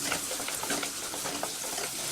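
Chopped onion frying in hot oil for veg fried rice makes a steady, close crackling sizzle that holds evenly throughout.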